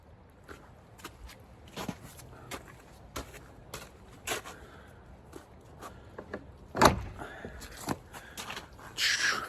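A split wooden door on a goat pen swings open in stages, with scattered knocks, creaks and latch clatter, one sharp bang near the end, over a noisy outdoor background.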